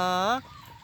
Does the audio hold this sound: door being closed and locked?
no